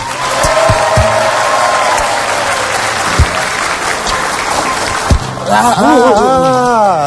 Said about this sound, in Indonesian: kasih tepuk tangan buat Jerry